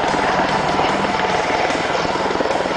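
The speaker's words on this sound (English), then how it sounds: "effortlessly as he brings the airplane up vertically." An MV-22 Osprey tiltrotor aircraft lifts off vertically, its rotors giving a loud, steady, dense roar that chops in a rapid rhythm and fills the whole stretch.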